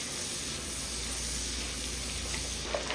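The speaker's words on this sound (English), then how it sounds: "we got our onions in there. We're allowing them to toast up." Onions sizzling steadily in a hot pan as they toast, a dense continuous hiss, close and unbroken throughout with no speech.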